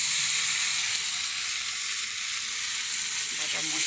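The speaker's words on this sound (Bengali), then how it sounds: "এবার এটাতে বাটা মশলাটা দিয়ে দেবো।" Ground spice paste added to small fish and shrimp frying in a pan, giving a loud, dense, steady sizzle from close by, with a few faint stirring sounds near the end and no speech.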